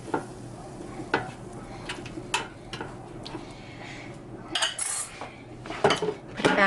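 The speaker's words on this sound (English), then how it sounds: "So here we're putting some pork into the air fryer" Pork chops set into an air fryer basket, with close clinks and clatters of metal and utensils against the basket, several sharp taps spread out over quiet kitchen background, with no talk.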